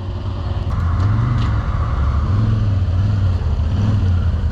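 An ATV grinds along off-road through a deep rut, its engine droning steadily near and loud with rising and falling pitch as the throttle works, no talk over it.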